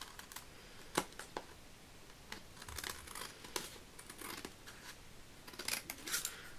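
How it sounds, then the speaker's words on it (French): Quiet, close snips of scissors cutting card stock for a handmade card, several short crisp cuts spaced irregularly with faint handling rustle and no talk. "On va venir couper."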